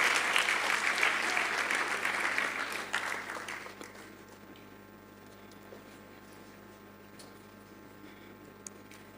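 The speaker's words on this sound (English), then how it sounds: "Please give a round of applause." A convocation audience at a management institute claps in a loud, full round of applause that fades over a few seconds, leaving a quiet hall with a steady low hum.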